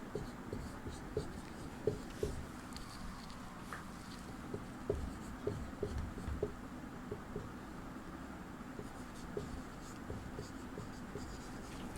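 Chalk or marker tapping and scratching on a classroom board during a Sanskrit grammar lesson, faint, irregular short strokes over a steady hiss of room noise, with no voices.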